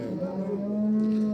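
A calf moos at a busy cattle market in Ganja, Azerbaijan, a single sustained low bellow close to the listener with faint crowd noise behind it.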